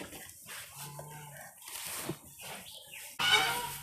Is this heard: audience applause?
no